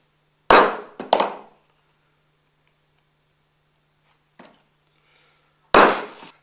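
Sharp taps of a tool marking six-stitches-per-inch holes into a leather handbag handle: two close knocks, a faint tap, then a final loud strike, each ringing briefly against silence.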